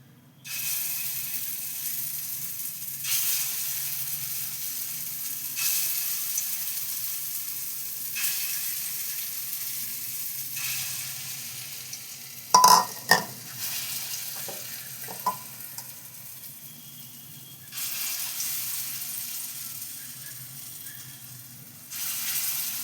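Lentil fritters (bora) frying in oil, a soft crackling sizzle that swells and fades in waves, broken midway by a few loud utensil clanks and scrapes, with no voices.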